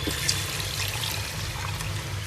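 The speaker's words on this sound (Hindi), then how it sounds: "अब मैं इसमें अखनी का पानी डाल देती हूँ।" Mutton yakhni stock pours steadily into a pot of fried masala for pulao, a continuous close liquid splash and trickle with no talking.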